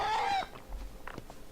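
A bird in the Conan Exiles video game gives a few short clucks and squawks, close and fairly loud, following a brief high whistling tone at the start.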